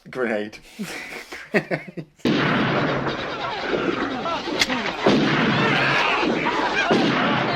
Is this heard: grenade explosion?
yes